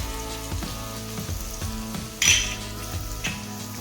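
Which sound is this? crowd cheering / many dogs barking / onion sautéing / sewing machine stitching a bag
onion sautéing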